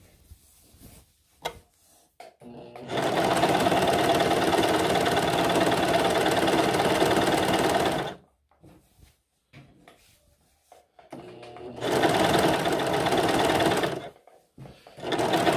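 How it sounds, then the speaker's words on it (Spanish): A Brother 3534DT overlock sewing machine gathering fabric runs in two loud, steady bursts of rapid mechanical whirring, the first about four seconds long and the second shorter, separated by quiet gaps with small handling clicks. "La máquina va a ir consumiendo más tela de la parte de abajo. Entonces dejamos que avance y que vaya formando aquí la costura."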